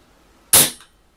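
A Kral Puncher Empire X bullpup air rifle fires one pellet with a single sharp, close crack that fades quickly into silence.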